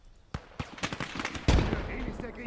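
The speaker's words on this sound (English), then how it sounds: "What we can actually do, potentially, is lob a grenade at it." A grenade blast in the video game Gates of Hell Ostfront, a sharp booming explosion following a few lighter impacts, with a rumbling tail, heard under faint background talk.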